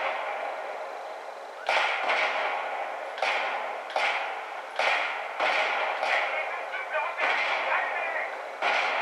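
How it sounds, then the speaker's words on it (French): Explosions in the Battlefield 3 video game, a series of about seven sharp booming blasts at irregular intervals, each trailing off into rumble, with players chatting over them. "C'est quoi qui explose là?"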